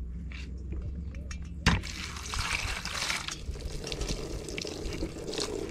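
Tap water runs steadily into a sink while vegetables for a vegan vegetable stew are washed, with a sharp knock near the start, background murmur, and a constant trickling flow throughout.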